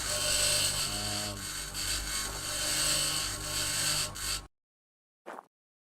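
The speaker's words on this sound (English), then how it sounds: "Like me grinding these solar panels down is giving me points in my electrical and materials." In the video game Occupy Mars, a hand tool grinds down solar panels with a sustained rasping, scraping noise that pulses slightly. It then cuts off abruptly, followed by one short burst.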